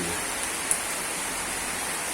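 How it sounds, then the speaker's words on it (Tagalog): Steady, dense hiss of heavy typhoon rain pouring down in the Bicol region, a constant wash of noise with no voices. "ang lakas po ng ulan"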